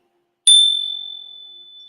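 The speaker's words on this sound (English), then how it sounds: "Pegasus bell. Isn't that beautiful? It's iron, I believe." An iron Pegasus bell on an altar is struck once, giving a clear bright ring that sustains and slowly fades over nearly two seconds, alone in a quiet room.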